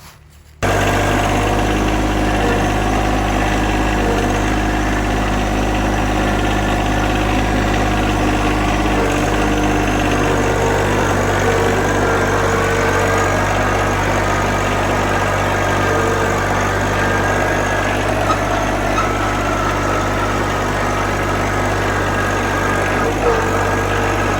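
A vehicle engine idles steadily and loudly close by for the whole stretch, a constant low rumble and vibration at a rural site before a drive to fetch wood slabs, with no talking.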